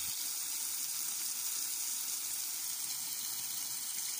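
Water gushes steadily from a garden tap and a drip-irrigation pipe valve on a Thai farm, a continuous hissing flow at fairly low level with no talk over it.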